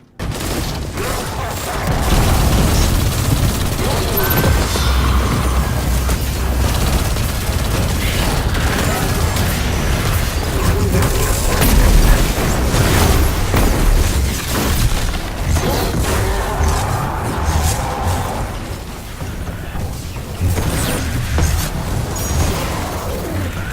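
Steady barrage of gunfire and booming explosions from Destiny 2 combat, dense and loud throughout with rapid bursts layered over rumbling blasts.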